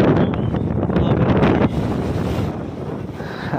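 Strong wind under cloudy, rainy skies near Chilpara, Nangolkot, Comilla, buffeting the microphone in a continuous heavy roar, with gusts rising and falling, loud and close.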